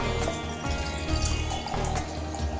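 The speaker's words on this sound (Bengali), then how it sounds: "তারা একটু ভাতে জল দিয়ে নেই।" Water pouring from a height into a pot of rice, a steady close splashing rush that runs throughout with a few drips and gurgles.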